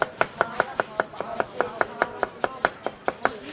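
A knife chops onions steadily on a cutting board, about fifteen sharp, evenly spaced cuts in quick rhythm, close and clear with no talking.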